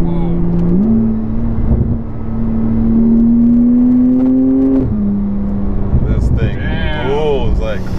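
A modified Porsche 991 Turbo S launches hard, its loud engine climbing steadily through one long pull before a gear change and another surge, heard from inside the car with excited voices over the roar.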